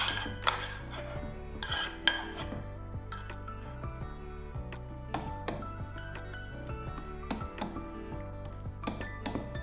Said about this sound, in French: maintenant, on va ajouter notre mélange poire, cèpe et châtaigne qu'on a mis de côté